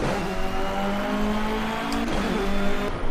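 Race car engine in Project Cars, a Racing Icons Pack DLC car, held at steady high revs with the throttle feathered, a loud continuous whining drone with a brief dip near the end and no talking.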